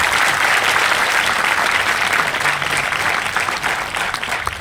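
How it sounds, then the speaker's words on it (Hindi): An audience at a Vestige seminar in Kanpur claps continuously, a dense, loud wash of applause that tapers slightly toward the end. "तो एक बार जोरदार तालियां अपने लिए जरूर बजाएं, जोरदार तालियां।"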